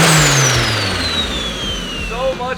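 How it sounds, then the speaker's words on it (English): A turbocharged rear-wheel-drive Honda Civic revs hard on a dyno, its engine tone sweeping down while a turbo whine falls across the pull, ending in a few quick blips; people talk over it. "So much turbo noise."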